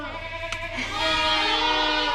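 A goat bleats once loudly and close by, a long wavering cry after a short click, with farm background noise.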